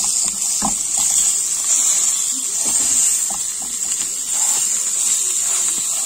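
Cheese frying in a pan, pressed down as it melts, gives a steady close sizzle and hiss throughout, broken by a few soft clicks and taps of a utensil.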